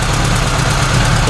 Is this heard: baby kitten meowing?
no